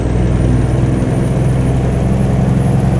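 Freightliner Classic truck in American Truck Simulator, running with a loud, deep, steady diesel rumble and a rapid low throb, with a faint high whine on top, no talk.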